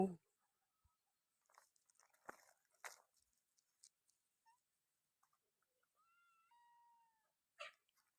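Young cats at a Thai temple give soft, scattered meows and small rustles amid near silence, with a longer, drawn-out mew near the end, all faint and sparse.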